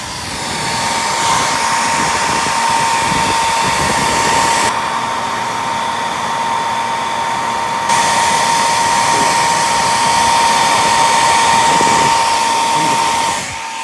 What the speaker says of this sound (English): using the hair dryer, blow the heat air on the shrink wrap